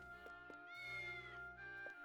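A cat meows in the video game Triangle Strategy, a drawn-out, wavering call over soft game music, with faint ticking effects around it.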